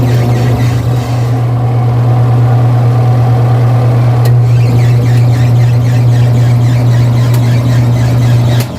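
A twin tub washing machine's spin dryer, refitted with a dual capacitor, runs with a steady loud motor hum and a faint high squeal, continuous and close throughout, with no speech.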